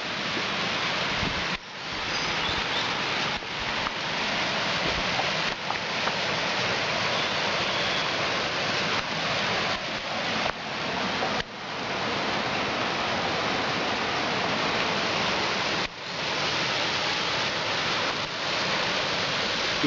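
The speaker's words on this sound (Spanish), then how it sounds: "Y llegamos a la cascada del Hervidero" A steady, dense roar of rushing water from the Hervidero waterfall pours continuously, loud and enveloping, with no voices.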